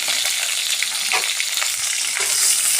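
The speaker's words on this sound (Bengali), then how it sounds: "এখন টমেটোটা সুন্দর করে একটু ভেজে নেব" Chopped tomato frying in oil with cumin seeds, bay leaf and dry chilli for a vegetarian soybean curry, a loud continuous sizzle with occasional stirring clicks, close up and without talk.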